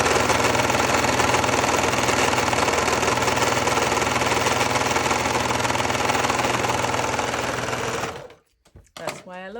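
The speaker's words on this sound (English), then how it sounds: "That's everything done on the serger." A serger sewing machine stitches leftover fabric pieces with a loud, steady rapid whirring hum that runs for about eight seconds, then stops abruptly before a voice begins speaking.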